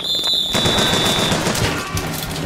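Rapid automatic gunfire bursts out in the video game BioShock Infinite, a loud, dense fusillade of shots layered over a high ringing tone that fades after the first second.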